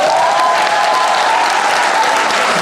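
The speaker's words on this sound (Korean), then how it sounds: "여러분 박수 좀 주세요." An audience applauds volunteers at an outdoor Korean traditional music festival, the Yeongdong World Gugak Expo, producing dense, steady, loud clapping that fills the whole moment.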